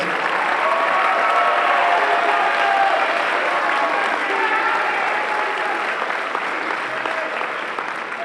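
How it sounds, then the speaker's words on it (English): Sustained audience applause for the graduating seniors at a high school band spring concert, steady and full-bodied, filling the hall evenly from start to finish without any speech. "Give them a round of applause."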